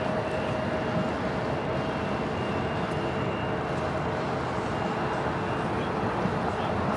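Airplane taking off at LAX in Los Angeles, a steady, loud broadband jet roar that holds evenly throughout without clear rise or fall.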